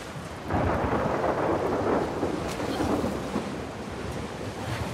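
A thunderstorm builds in The Last of Us Part II: a deep rumble of thunder rolls in after a brief quiet and holds loud and sustained over steady rain, with no voices.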